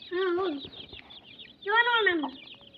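Chickens give two drawn-out, rising-and-falling clucking calls, close by, with a quiet pause between them and faint background rustle.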